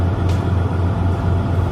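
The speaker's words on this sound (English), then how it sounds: "A massive Komatsu bulldozer rumbles forward but veers off course" A massive Komatsu bulldozer rumbles forward, a steady, loud low-pitched engine drone with continuous broadband mechanical noise throughout, no voices.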